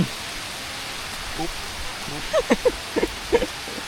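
Rain falls outdoors in a steady soft hiss during a rural fishing trip to set hooks for snakehead, while a few faint voices speak briefly over it.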